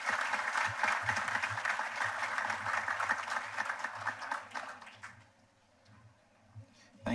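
Applause from the audience at a Bermuda College commencement ceremony, a dense wash of clapping that fades out after about five seconds, leaving quiet room sound.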